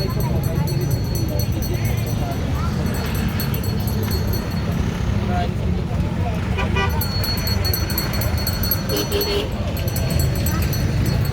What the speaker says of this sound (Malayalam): ഇവിടെ ഓട്ടോറിക്ഷ ഉണ്ട് കേട്ടാ